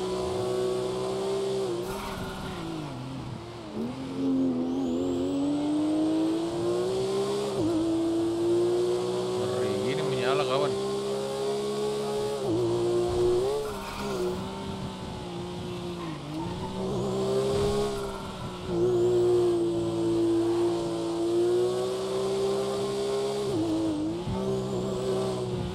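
Porsche 911 GT3 engine revving and accelerating around a track, a loud sustained engine note rising and falling through gear changes over about twenty-five seconds, with brief tire squeal and a voice talking over it.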